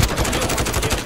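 Rapid automatic gunfire in Call of Duty: Modern Warfare, a dense burst of closely spaced shots that is loud and close throughout the short moment, with no voices over it.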